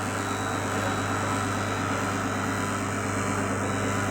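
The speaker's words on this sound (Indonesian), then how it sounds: "Kemudian nyalakan vakum." A vacuum pump drawing down a car air-conditioning system during refrigerant charging runs as a steady, even mechanical drone with a constant hum, unchanging throughout.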